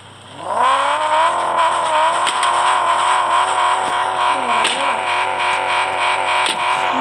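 A car engine catches and revs hard, a loud close sustained roar with rising and wavering pitch, held at high revs for several seconds with a few sharp clicks over it.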